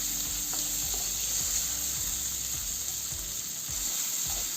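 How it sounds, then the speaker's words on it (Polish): Steady frying sizzle of vegetables and corn in a pan fills the background while a utensil stirs and scrapes the pan in occasional soft strokes; no voices. "Smażymy to jeszcze przez około 2 minuty."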